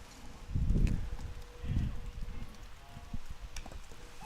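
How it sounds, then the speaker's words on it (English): Steady rain falls at an outdoor varsity baseball game, a soft continuous patter with a few low rumbling thumps and scattered faint clicks, quiet and diffuse with no voices. "It is a steady rain right now"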